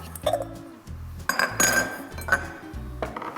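Glass mixing bowls set down and knocked together, several bright clinks and clatters close by, a few sharp hits spaced irregularly over a few seconds with no talking.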